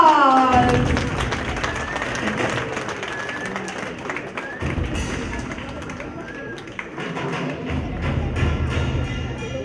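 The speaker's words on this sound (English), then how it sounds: "Ladies and gentlemen, please give a huge round of applause." A large crowd applauds at a Holi festival event in Stockholm, dense clapping mixed with crowd noise and thumps, loud and continuous, with festive music tones faintly underneath.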